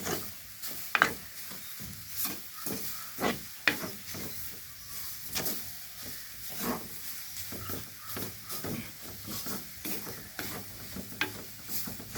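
Young jackfruit mallum with coconut stirred and mixed in a pan, repeated scraping strokes in an irregular rhythm over a soft sizzle, close and fairly quiet.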